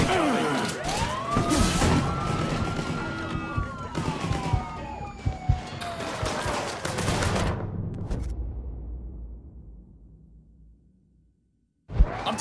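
Police sirens wail and sweep in pitch in Mafia 3, loud and near amid scattered gunshots, then fade away into near silence before a sharp sound returns at the end.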